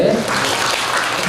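Crowd applause at a ceremony welcoming and congratulating new members, a steady dense patter of clapping filling the space with a voice briefly audible near the start.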